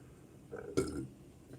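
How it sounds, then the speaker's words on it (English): A single clear burp lasting about a third of a second, close and moderately loud, over a quiet background with no talking. "Confirmation burp."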